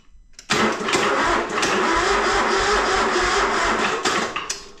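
Vehicle engine turning over on a nearly dead battery in a cluttered shop, a loud close roar that starts abruptly after a short pause, holds for about three and a half seconds and then dies away, with no voices.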